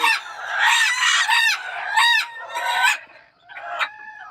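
Startled bantam chickens, a Thai ornamental breed, squawk and cackle loudly and close by in a rapid series of harsh overlapping calls with goose-like honking tones, continuing almost without pause.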